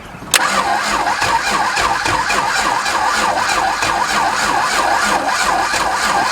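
A Valiant Ranger 245 Hemi engine cranks steadily on a jump pack, a continuous loud starter drone with a regular wavering rhythm that starts abruptly and runs throughout without catching, with no talking.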